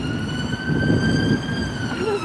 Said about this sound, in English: And there's another ambulance going.